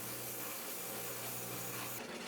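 Quiet, continuous scratchy rubbing of sandpaper worked steadily over a wooden lathe gouge handle, with no pauses or voices.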